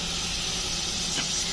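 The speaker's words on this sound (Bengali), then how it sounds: "সরষের তেল দিয়ে দিলাম, টমেটো, পেঁয়াজ" Chopped tomato and onion sizzle in hot mustard oil, a steady bright hiss from the pan that holds evenly throughout, close and unbroken, with no talking over it.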